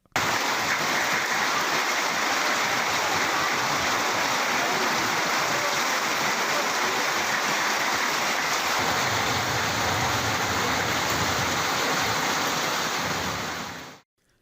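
Heavy rain pouring steadily during a downpour in Tamil Nadu, a dense, loud, even wash of falling water that holds without a break for about fourteen seconds and then stops abruptly.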